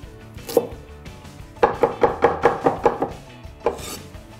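Ginger being minced with a knife on a cutting board: a quick run of about eight evenly spaced, crisp chops, with a few scattered knocks before and after, close and fairly quiet, with no talking.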